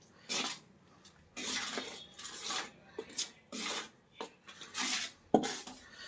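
A mixture being roasted in jaggery in a pan for winter laddoos: repeated scraping and rasping strokes of a spoon across the pan, close and moderately loud, in uneven bursts with a sharp clink near the end.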